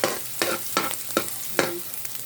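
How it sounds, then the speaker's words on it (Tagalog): Garlic and onion are sautéed in a hot pan for ampalaya with alamang, producing a close sizzle broken by about five distinct stirring scrapes of the spatula at an even rhythm, with no voices. "Gisa tayo ng bawang, sibuyas"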